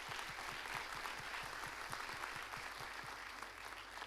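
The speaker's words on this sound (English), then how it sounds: "So please join me in thanking them with a round of applause." Applause from an audience at a community information session on western Cary, steady dense clapping throughout, fairly distant and moderate in level.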